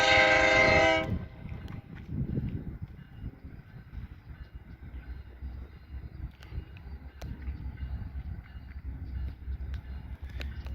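A BNSF Lafayette Branch lumber train sounds its horn with a loud blast of about a second, then rolls through a railroad crossing with a steady rumble and the clatter of wagons over the rails.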